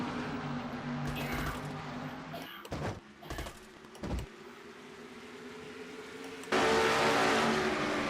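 Race cars in a racing video game drive into turn three at the NNSCRA Castrol GTX Cup Series Tyson Holly Farms 400, with a steady engine drone, a few sharp transient bumps and a louder roar near the end.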